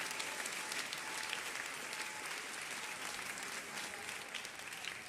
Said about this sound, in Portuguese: Pode aplaudir, aplaude com vontade a Ele